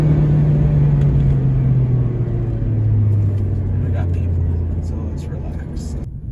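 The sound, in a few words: Mazda MX-5 Miata sports car engine accelerating hard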